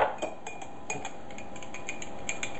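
A metal spoon stirring sugar into tea in a cup, light repeated clinks against the rim at an uneven rhythm, close and fairly quiet with no talking.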